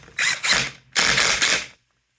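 A ratchet wrench with a 17 mm socket snugs a bolt on a Honda CT70 trail bike, giving two close, quick bursts of ratcheting clicks that then stop into silence.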